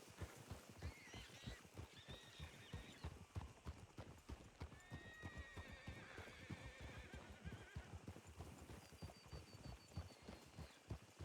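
Horses clip-clop steadily in a Wild West roleplay video game, their hooves beating in a quick, continuous rhythm while whinnies rise over the trotting.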